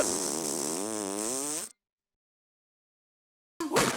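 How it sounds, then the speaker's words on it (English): A cartoon fart sound effect: a wobbly, buzzing, whizzing tone lasting about a second and a half, then sudden silence before a short, sharp burst at the end. "A dragon fart goes whizzing by."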